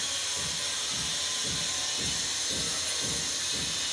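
Onion and green chili sizzling in hot oil in a pan, a steady broad hiss of frying with soft periodic stirring scrapes about every half second, close and continuous without talk.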